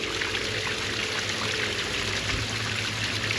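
Water running steadily through a small creek-like feature beside a resort swimming pool at Sebel Pinnacle Valley Resort, Merrijig, a continuous close rushing and trickling wash with no pauses.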